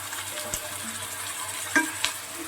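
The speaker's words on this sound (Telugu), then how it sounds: "ఇవి ఒక అరగంట మ్యారినేట్ అయినాయి కదా, వేసేద్దాం. చూడండి, పీతలు వేసేద్దాం." Marinated crabs go into a hot pan and fry with a soft, steady sizzle, broken by a few brief clatters as they land and settle.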